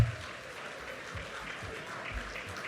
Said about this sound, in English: Let's give all our fellows a big round of applause